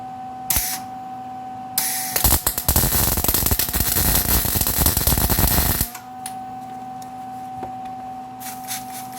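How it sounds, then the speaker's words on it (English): A welder laying a bead on a grease fitting gives a loud, steady crackling buzz lasting several seconds, bracketed by quieter mechanical ticks and a steady background hum. "I'm going to weld this and spray it."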